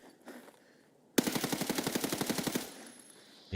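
FAL battle rifle firing in the video game Escape from Tarkov: a loud, rapid string of about fifteen evenly spaced shots in one continuous burst, standing alone against quiet background noise.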